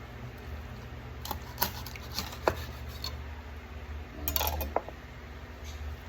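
A kitchen knife works through raw chicken on a board, giving scattered soft clicks and taps with a few sharper knocks, fairly quiet against a steady low background hum and no talking.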